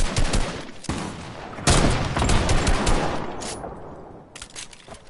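Rapid bursts of video game gunfire crackle through the whole stretch, loud and dense, with sharp single shots and sustained automatic volleys and no talk over them.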